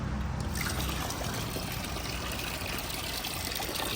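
Engine oil and water drain from a removed Tata CNG engine with a damaged piston, a continuous close trickle and splash of liquid running steadily throughout.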